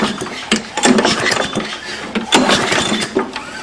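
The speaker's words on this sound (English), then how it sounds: "I took the muffler off just to make the sound more obvious, is a ch-ch sound every time the exhaust releases." A lawnmower engine running with its muffler removed and a burnt exhaust valve, chugging loudly and unevenly with a raw, rapid exhaust chuff and periodic heavier bursts, close and alone.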